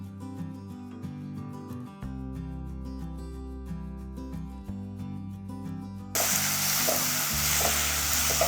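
Tomatoes and onions sautéing in a pan for egg gravy. Background music plays alone at first, then a loud, steady, close sizzle of frying comes in over the last couple of seconds.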